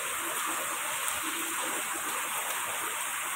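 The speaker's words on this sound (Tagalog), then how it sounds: "Ilang minutes na siya umuulan." Heavy rain falling steadily, a dense, loud broadband hiss and patter that stays constant throughout with no voices.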